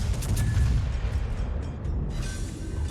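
Heavy naval gunfire from a Borodino-class Soviet battlecruiser in World of Warships, with deep rumbling booms rolling through the whole stretch and a fresh blast near the end, loud and close with no talking.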